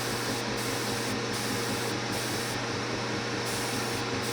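An airbrush sprays paint onto a 3D print with a steady broadband hiss, pulsing with short gaps as the trigger is worked, close and continuous with no talking.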